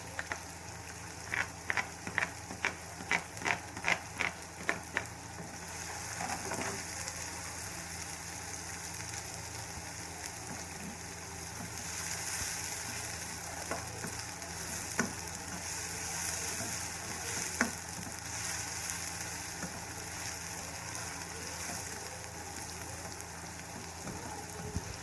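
Chopped onion frying in a hot pan for a bread potato roll filling gives a steady, soft hiss. A few sharp clinks come at the start, then the sizzle runs on alone.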